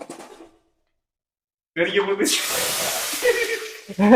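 Onions dropped into hot oil in a home kitchen, cooking a Madurai-style pigeon curry with milk rice: a sudden loud, broad hiss bursts up and holds steady, with people talking over and around it.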